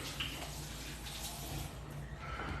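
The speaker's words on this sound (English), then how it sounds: "Let me just rinse my hands real quick." Water runs steadily from a tap as hands are rinsed in a kitchen, a continuous close splashing hiss throughout with no talking.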